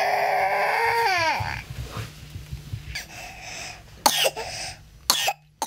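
A young girl cries with a wavering wail, then breaks into several harsh, close coughs and wheezy breaths.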